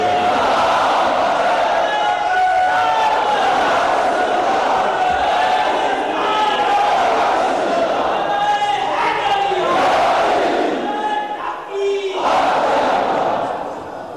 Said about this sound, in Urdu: نعرے تو آپ نے خوب لگا لیے